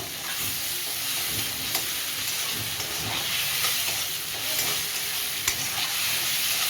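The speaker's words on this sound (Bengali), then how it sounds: "এবার টমেটো দিয়ে কষিয়ে নেবো।" Onion and tomato fry in a pan for a fish-head and eggplant curry, giving a steady close sizzle. A few light stirring scrapes and clinks sound over the sizzle.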